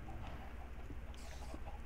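Chickens cluck inside a Minecraft-style survival game with a Village Defender mod, the small flock penned up and clucking continuously over a dense, steady background of game sound.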